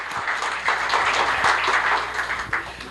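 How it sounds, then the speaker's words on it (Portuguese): An audience at a public talk gives a round of applause, steady dense clapping at moderate loudness that carries on evenly without any speech over it. "vou pedir uma salva de palmas aqui para a Tatiana"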